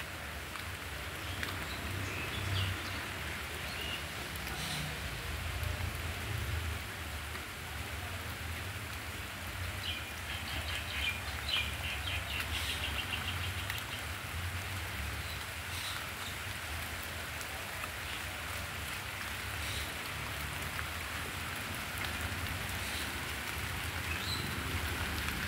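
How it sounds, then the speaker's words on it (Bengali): Heavy rain falls steadily for a long stretch, an even, dense hiss of drops on surfaces and leaves, with no voices breaking through. "বৃষ্টি তো জোরে আসছে।"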